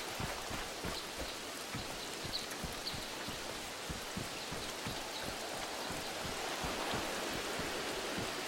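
Steady rain in the Arma 3 military video game, a constant dense patter of drops on surfaces with no voices, continuous and even throughout.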